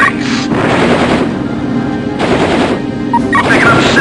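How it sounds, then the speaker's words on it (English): A Vulcan cannon in a video game fires in long, loud continuous bursts of rapid shots, with brief pauses between them and a dense, grinding roar under it. "Vulcan cannon."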